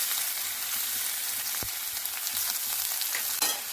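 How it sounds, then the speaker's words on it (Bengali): Onion frying in a pan with coconut paste and poppy seed paste, a steady close sizzle throughout with one sharp utensil tap midway and a brief scrape near the end. "খানিকটা পেঁয়াজ মোটামুটি ফ্রাই হয়ে এসছে"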